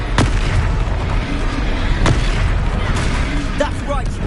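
A fiery explosive spell blast in the Hogwarts Legacy video game booms loudly amid sustained combat rumble, with sharp impacts and crackling bursts layered over game voices.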